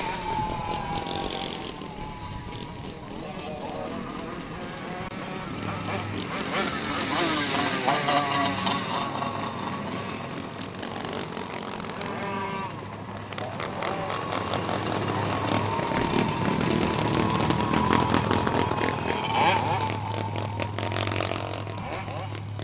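Race cars roar through a heat race at Golden Spike Speedway, a continuous rising and falling engine drone from several cars at varying distance, with an announcer talking over it throughout.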